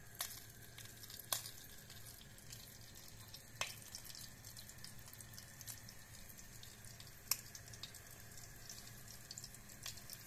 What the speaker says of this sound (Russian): каждый кусочек печенки мы обмакиваем муку со всех сторон и выкладываем на разогретую сковороду